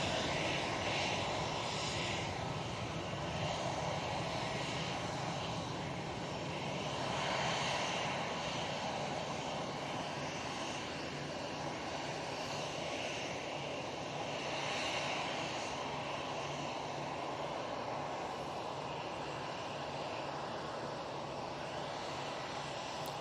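An EasyJet airliner departs Manchester Airport for Palma de Mallorca, its engines a constant, distant roar that swells slightly and fades again over the span, heard alone without speech.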